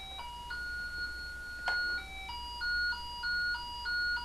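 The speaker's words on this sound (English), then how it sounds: "So we've got this set to tone, and this thing will ring louder when you find the red." Network cable tester in tone mode on a Cat 5 cable, giving electronic beeping tones that alternate between two pitches in a steady repeating pattern, moderately loud with no talking.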